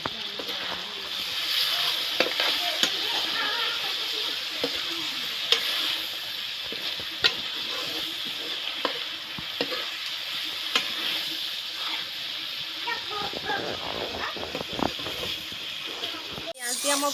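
Onion and ginger-garlic paste fry and crackle in a pan while being stirred, giving a steady close sizzle with scraping clicks and a busier burst of stirring near the end.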